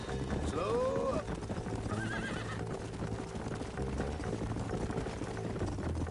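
Horses in the Western video game Red Dead clop along steadily while one lets out a rising, wavering whinny early on and another shorter neigh follows, the hoofbeats continuing close and rhythmic under faint ambient background.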